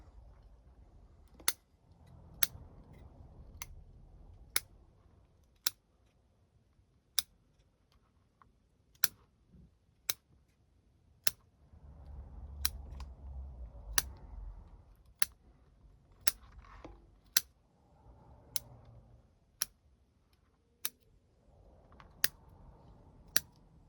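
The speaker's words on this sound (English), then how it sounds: "let's start by snipping off some of these top roots up here" Scissors snip through bonsai tree roots during a yamadori repot, a long series of crisp, close clicks at a fairly regular pace over soft rustling handling noise, with no talking.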